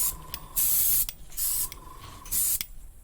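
Colour shift chameleon spray paint sprayed onto a resin toy in three short, loud hissing bursts, each under a second, separated by quiet pauses.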